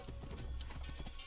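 Horse hooves clip-clopping in the video game Assassin's Creed, a brief, steady, muffled trot of rapid beats under a continuous background wash.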